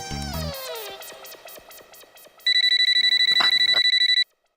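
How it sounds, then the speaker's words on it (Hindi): A telephone rings loudly with a rapid electronic trill, sustained for nearly two seconds before cutting off, following a brief descending musical tone. "ऐसे घूमते रहने से थोड़ा फोन बजेगा।"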